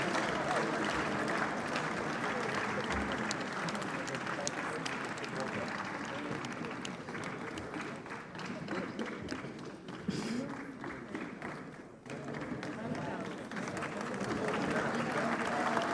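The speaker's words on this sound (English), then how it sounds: "Ladies and gentlemen, please, a round of applause for them as we welcome them to the stage." At an African summit's main conference room, a large audience claps continuously, a moderately distant, steady wash of applause as people are welcomed to the stage, with faint voices mixed in.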